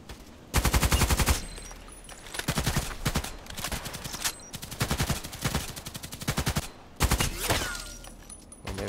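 Fast rattling automatic gunfire in a video game, coming in repeated loud bursts of several rounds each, with brief gaps between them.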